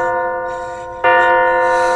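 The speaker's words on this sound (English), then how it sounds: "And there's the bell!" A bell rings out in the indie horror game MADiSON, a sustained resonant tone that fades slightly and is then struck again halfway through, louder and ringing on to the end, with no talking.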